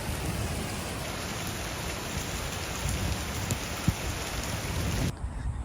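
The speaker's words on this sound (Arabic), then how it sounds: "كيف الأجواء هذه الأيام، كلها تمطر" Steady rain falls close by in a dense, even hiss, continuous for several seconds before dropping off abruptly near the end, with no voices.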